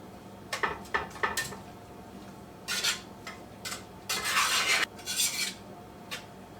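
Hamburger meat being broken up in a pot for beef and cabbage soup, with a metal utensil scraping and clinking against the pot in irregular bursts, some short taps and a few longer raspy scrapes, close and fairly quiet.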